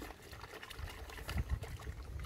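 A small amount of water is poured onto freshly chopped napier grass and molasses while making grass silage, giving a steady splashing trickle close by without any talk.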